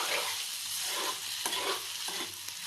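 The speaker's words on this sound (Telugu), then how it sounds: "సిమ్లో పెట్టుకొని కొంచెం లైట్గా అలా ఫ్రై చేసుకుంటూ ఉండాలి" Meal maker and egg curry frying gently over a low flame in a pan, a steady close sizzle with soft stirring scrapes running throughout, no voices.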